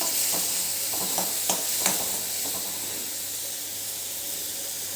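Masala simmering in a pan after water is poured in, a steady loud sizzle and hiss with a few light stirring taps near the start, no voices.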